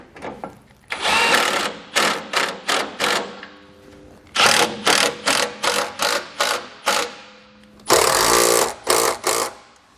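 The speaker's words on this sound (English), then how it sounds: "Now we're going to go back and tighten them all down." A ratchet wrench tightens the existing bolts on a MORryde jerry can mount fitted to a 2013 Jeep Wrangler JK: three close, loud bursts of rapid, rhythmic clicking strokes separated by short pauses, with no talking.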